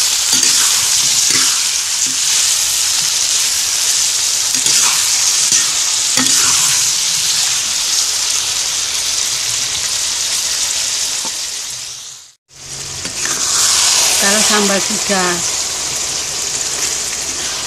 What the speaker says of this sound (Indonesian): Kita goreng bersamaan tomat, cabai rawit, cabai merah.